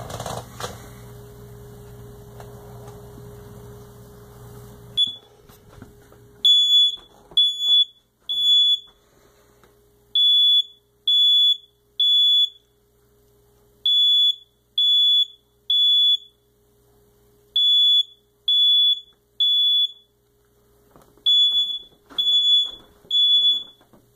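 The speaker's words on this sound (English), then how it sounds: "This is what the smoke detector is supposed to sound like when it goes off." A smoke alarm chirps in rapid triple beeps, repeating in loud bursts with short pauses, after a stretch of low background noise.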